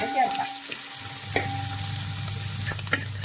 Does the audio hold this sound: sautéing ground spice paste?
yes